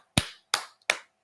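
Four sharp, separate hand claps, close and evenly spaced about a third of a second apart, with nothing else heard.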